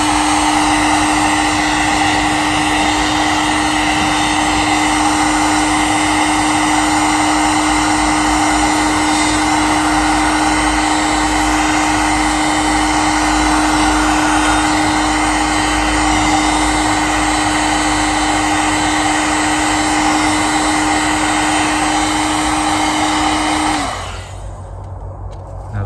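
A heat gun blows hot air steadily onto car trim, a Fiesta Mk7/7.5 seat rail end cover, as a loud continuous whine and rush that holds for about 24 seconds before cutting off abruptly.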